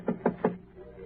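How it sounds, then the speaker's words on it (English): Three evenly spaced knocks on a door, a radio drama sound effect set in a dim hallway, sharp and fairly close with a brief pause of room tone after. "Then he knocks."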